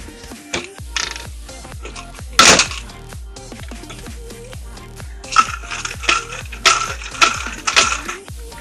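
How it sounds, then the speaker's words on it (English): A hand rivet gun sets a rivet through a fender washer on a shoulder pad made from a knee pad, giving repeated close mechanical clicks and ratcheting squeezes in an uneven rhythm with a few sharper snaps. "Get your rivet gun, put her on right there."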